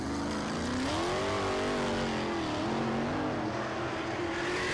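A non-wing sprint car roars down the back chute during dirt hot laps. The engine is loud and sustained, its pitch wavering as the driver works the throttle, with a drone of other engines underneath.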